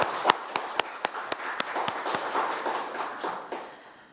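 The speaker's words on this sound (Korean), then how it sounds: "박수를 다시 한번 보내드립시다." Scattered applause in a city council committee meeting hall, sharp separate claps at first that thicken into a brief, moderate round before tapering off, fairly close and not loud.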